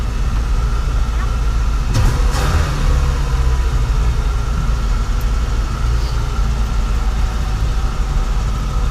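A 1965 Ford Mustang Fastback engine running in neutral, a steady loud low rumble throughout with a brief rattle near the two-second mark, and no talk.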